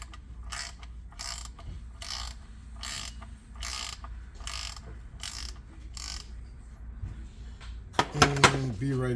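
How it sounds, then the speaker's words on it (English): A 24 mm socket ratchet turns to open the oil filter housing on a Mercedes GLS 580 AMG 63 X167 4MATIC engine, giving steady rhythmic bursts of close ratcheting clicks, then a few clanking metallic knocks at the end. "Here's your socket, and you need to open this oil filter housing."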